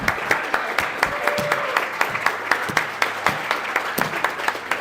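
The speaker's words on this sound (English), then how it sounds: "Keep it clapping, keep it clapping." Audience at a party convention claps steadily with sharp rhythmic hand claps over a broad crowd wash, cheering faintly, continuous and fairly close throughout.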